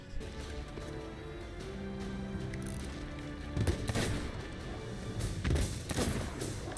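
Gunfire in the pirate game Sea of Thieves crackles over a busy background of game music and ambience, with a few heavier bursts of shots clustering near the middle and toward the end.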